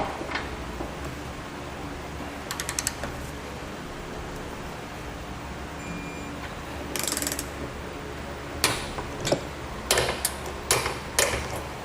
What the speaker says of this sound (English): Now we'll be using a 19mm socket. We'll go ahead and tighten this down.